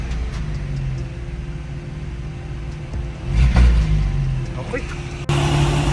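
A car's engine idles after maintenance, a steady low rumble that swells briefly in the middle, with a short spoken word over it.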